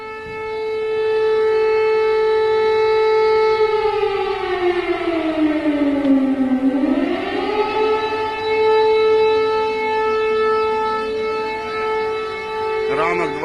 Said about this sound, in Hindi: सायरन बज रहे हैं, यानी हवाई हमला हो सकता है